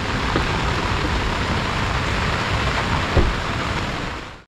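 Steady rain falls outdoors in a hill village near Bindu Jhalong, India, a continuous dense hiss at moderate level with no talk, fading out at the very end.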